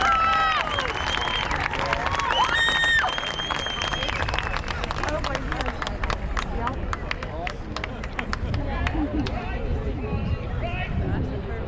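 A crowd at a Marine Corps graduation claps and cheers for the new Marines of Charlie Company, a dense, sustained wash of applause with shouts and whistles close by, a voice calling out over it.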